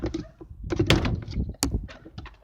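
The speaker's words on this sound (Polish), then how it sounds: "Zamknę drzwi." A door swings shut with a solid thunk, followed by a second knock and some light handling noises nearby.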